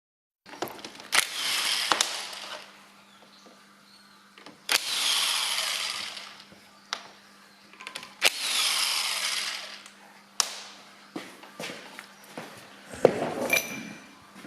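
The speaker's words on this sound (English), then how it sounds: "So now we're going to remove the bolts from the rear housing." Power tool, likely an impact gun, undoing bolts on the rear housing of an M40 gearbox during a stripdown. Loud close bursts of whirring and rattling, each lasting a second or two, separated by quiet pauses and small metallic clinks.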